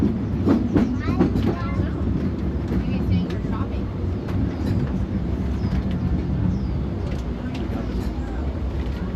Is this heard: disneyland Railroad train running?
yes